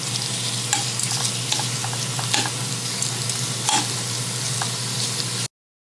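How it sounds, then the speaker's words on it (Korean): Smoked duck frying in a pan at home, a loud, continuous close sizzle with a low steady hum underneath and occasional scraping stir clicks, ending abruptly in silence. "오리 훈제 구워서 먹을 거고"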